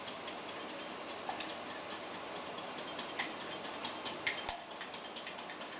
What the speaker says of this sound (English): And whisk up. Must have a good whisk.